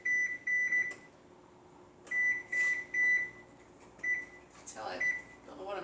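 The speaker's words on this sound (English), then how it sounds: "I'm going to set my timer because I get distracted." Oven timer set while baking banana bread: a series of short, sharp electronic beeps in clusters of two and three, close and clear, with faint handling clatter between.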